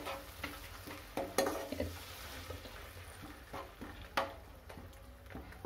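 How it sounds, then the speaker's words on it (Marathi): Tamarind pulp goes into a hot pan of spices for toor dal sambar, bringing a soft sizzle and fry broken by a few sharp clatters and spoon knocks, with faint murmuring in the background. "आता आपण एक चिंचेचा कोळ ओतून घेऊया"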